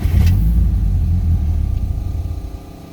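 An SR20-swapped Nissan S14 engine runs steadily at idle on a Haltech setup, a deep close rumble that dips slightly toward the end, with a brief sharp tick early on.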